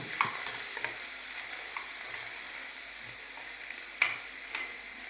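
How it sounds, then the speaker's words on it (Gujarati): Dal tipped into a hot pan sizzles softly while a spoon stirs it, with a steady low frying hiss broken by a few scattered scrapes and clinks, one louder knock near the end. "હવે આપણે દાળ નાખી દઈશું નાખી દો દાળ હલાવી દો બધું મિક્સ કરી નાખો"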